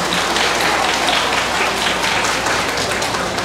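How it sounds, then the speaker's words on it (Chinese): A crowd applauds at a Keelung mayor's cup cup-stacking competition, with dense, steady clapping that holds at an even level throughout. "我们掌声为他们鼓励一下好不好"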